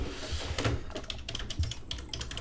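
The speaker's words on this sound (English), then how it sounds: "why you gotta type so hard for?" Heavy, forceful typing on a computer keyboard, a dense run of sharp clacks and thumping keystrokes close by, with no talking over it.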